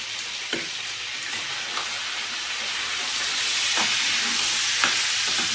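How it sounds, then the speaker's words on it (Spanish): Meat frying in oil in a paella pan for paella valenciana, a loud, steady sizzle and hiss with a few sharp pops and stirring clicks, close up and without talk. "Entonces vamos a empezar friendo bien la carne."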